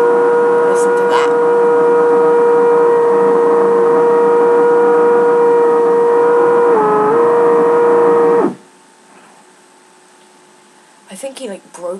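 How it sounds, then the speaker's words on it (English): A loud, steady power drill runs for about eight seconds, wavering briefly near the end before cutting off abruptly, leaving quiet room tone and a few faint knocks. "sorry for the drilling."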